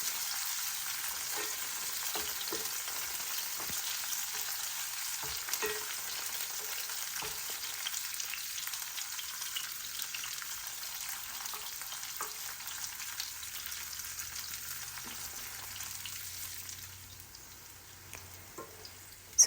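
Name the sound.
bitter gourd (karela) frying in a pan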